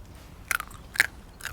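A raw chestnut is bitten and chewed in three sharp, crisp crunches spaced about half a second apart, close and quiet outdoors by a campfire.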